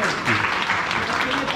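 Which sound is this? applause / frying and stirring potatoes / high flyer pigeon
applause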